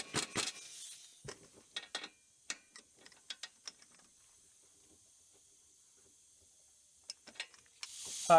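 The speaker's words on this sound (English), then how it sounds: "We're going to run that down with our 17 millimeter and our 14 millimeter wrench" Ratcheting wrench clicks from a 17 mm and 14 mm wrench tightening the sway bar link nut on a 2005-09 Subaru Outback front suspension, heard as near, quiet, irregular bursts of clicks with a long pause between them.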